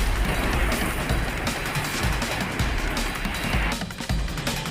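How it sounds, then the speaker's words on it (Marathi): Heavy rain pours down during a violent storm over farmland with banana plantations. A dense, loud, continuous hiss and roar of rain and wind fills the whole stretch without a break. "कसा पाऊस चालू आहे"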